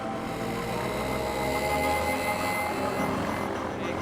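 A small plane patched up with duct tape flies past, its steady propeller engine drone loud and continuous throughout with no talking.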